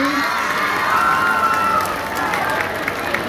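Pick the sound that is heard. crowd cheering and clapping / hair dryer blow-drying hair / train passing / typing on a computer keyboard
crowd cheering and clapping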